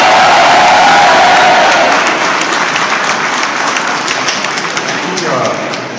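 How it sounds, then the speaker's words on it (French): A crowd applauds at a naming ceremony for a graduating class of student gendarmes, a loud, dense roar of clapping hands with some cheering that eases a little after the opening seconds and carries on steadily. "on peut les applaudir la CEFI"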